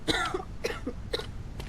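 Several short coughs and throat-clearing bursts in quick succession from a sick character in the game Quarantine Zone, close and fairly loud.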